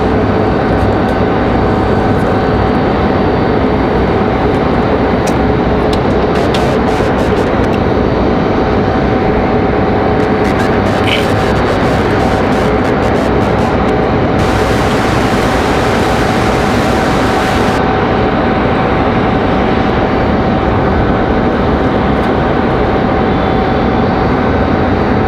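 A Boeing 737 airliner at Raleigh Durham airport roars loudly and continuously, a broad steady jet rumble that holds strong for the whole stretch, with a brief brighter hiss partway through.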